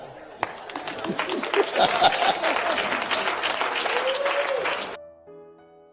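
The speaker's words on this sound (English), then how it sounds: "Clap." Sustained audience applause and cheering at a church sermon, a dense wash of many hands clapping for about five seconds after a sharp onset, then cutting off abruptly.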